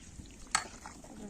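A spoon scrapes briefly against a pot while stirring rice in a quiet kitchen, with a faint clink and soft stirring noises around it.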